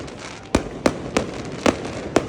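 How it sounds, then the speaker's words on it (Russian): Five distant fireworks bangs celebrating a Champions League semi-final victory pop at irregular intervals over a steady low background hiss, each a sharp crack with a brief tail. "Сразу салют в честь победы."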